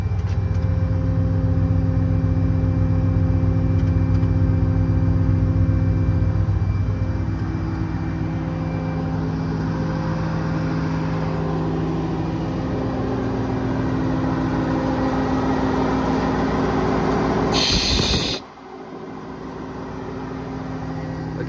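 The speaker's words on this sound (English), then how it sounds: "Just hit that switch up and the compressor comes on." An air compressor on a 2024 Ford F600 diesel service truck runs with a steady mechanical drone alongside the engine, loud and continuous for the whole stretch, then briefly hissing before it settles at a slightly lower level.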